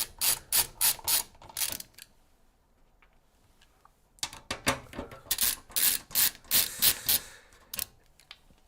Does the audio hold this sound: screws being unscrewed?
yes